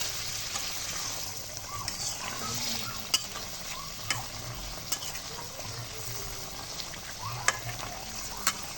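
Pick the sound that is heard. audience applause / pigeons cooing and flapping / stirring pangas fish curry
stirring pangas fish curry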